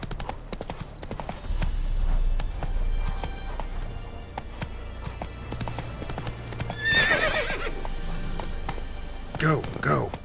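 Roach, a horse in the video game The Witcher 3: Wild Hunt, gallops with rapid rhythmic hoofbeats, then gives two loud whinnying neighs near the end, over in-game ambience and a voice.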